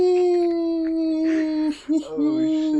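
A dog howls in long, sustained, wavering tones up close, the cry breaking briefly and resuming, with no talk over it.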